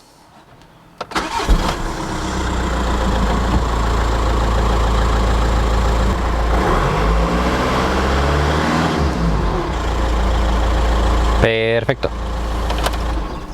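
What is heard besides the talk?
car engine starting and idling after oil change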